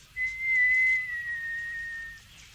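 A person whistles one long sustained note in a 1968 BBC radio drama of The Hobbit, clear and close, holding steady for about two seconds before fading slightly.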